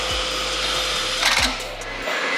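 Power tool driving a 13mm socket to tighten a factory nut on the passenger side of a BMW G8X M3/M4 during an AWE exhaust install; a steady mechanical whir with a brief ratcheting burst, close and loud, cutting off abruptly at the end.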